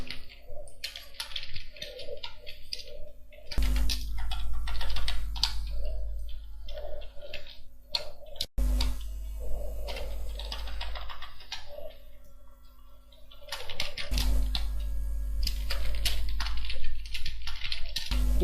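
Fingers typing on a computer keyboard while data is entered into an Excel spreadsheet, a steady run of close, irregular key clicks that continues for the whole stretch, with a faint low hum beneath.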